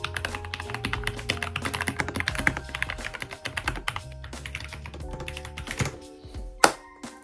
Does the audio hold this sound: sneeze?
no